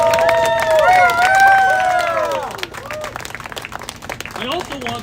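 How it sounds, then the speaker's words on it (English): A crowd at a street protest in Washington, DC applauds volunteers, scattered clapping and cheering that rises as an amplified voice over a loudspeaker fades, then continues unevenly with some outdoor crowd noise. "Please give a massive round of applause for these hardworking pro-impeachment volunteers."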